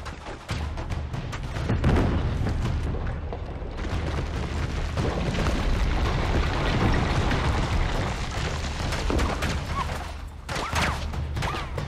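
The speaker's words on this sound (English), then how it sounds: "I just finished throwing a grenade." Grenade blast in Uncharted 3 amid a firefight in the Citadel, a loud rumbling explosion over continuous gunfire and booming debris, dense and close throughout with no clear pauses.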